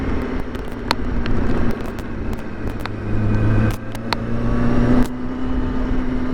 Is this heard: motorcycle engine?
yes